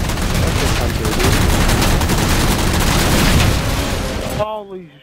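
Gunfire in the video game Halo Spartan Ops: loud, continuous rapid shots and booming blasts fill several seconds, then cut out abruptly into a short trailing tone near the end.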